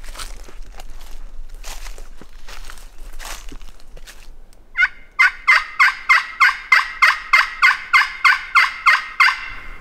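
Wild turkeys on public land in spring gobble in a rapid run of about a dozen loud rattling calls, preceded by rustling and crunching footsteps in leaves.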